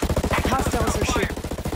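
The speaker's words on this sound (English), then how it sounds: "Hostiles are shooting." Rapid automatic gunfire in the tactical shooter Ghost Recon Breakpoint, a fast, steady burst of loud shots repeating throughout with a few brief higher game sounds layered over the top.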